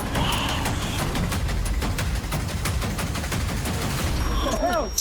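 A fusillade of gunfire rattles in rapid, dense bursts through a video game trailer for The Mound, loud and sustained, with a sharp whooshing effect near the end.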